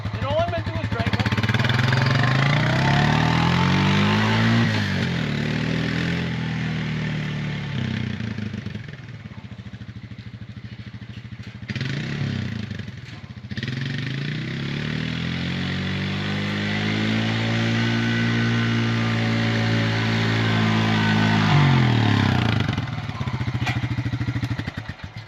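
An ATV drives back and forth across a food plot, its engine droning loud and steady with rising and falling revs as it passes, dipping briefly midway before building again.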